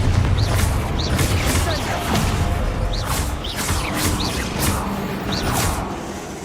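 Repeated Confringo blasting-spell explosions from Hogwarts Legacy burst in a steady run of booms and whooshes, with crashing impacts layered over a dense, loud battle din.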